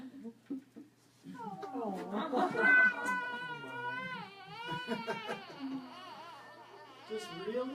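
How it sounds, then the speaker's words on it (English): A small kitten meows repeatedly, close and fairly loud, with drawn-out plaintive cries rising and falling, mixed with a person speaking softly. "a little kitty like that sure does make me think happy thoughts"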